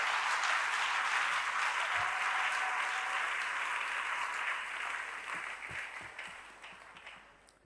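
A church congregation claps in sustained, dense applause that holds steady, then thins and fades toward the end.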